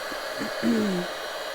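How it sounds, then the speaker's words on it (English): A heat gun blows steadily while heat-setting stamped ink on a handmade card, a constant airy hiss with a brief louder swell midway, close and alone without talk. "I'll heat set it real fast because otherwise that ink might smear."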